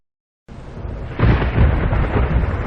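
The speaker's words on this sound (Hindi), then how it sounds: "अरे आज फिर तेज बारिश आ गई।" A heavy rainstorm roars in suddenly after a brief silence, loud broadband downpour with a deep rumble of thunder swelling up under it and continuing steadily to the end.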